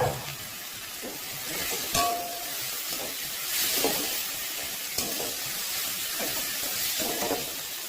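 Paneer stir-fried in a pan for Bengali potol dolma filling, a steady sizzle and hiss with irregular scraping stirs of the spatula, close and fairly quiet, no talking.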